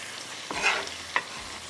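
Chicken frying with onion and tomatoes over a high flame, a continuous sizzle broken by two sharp spatula stirs and scrapes against the pan, close up and without speech.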